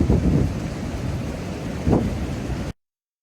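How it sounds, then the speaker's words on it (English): Wind buffets the microphone outdoors on high ground in Teignmouth with a low rumbling roar and steady rain hiss, gusts swelling twice before the sound cuts off abruptly. "despite it being a little windy up here and rainy"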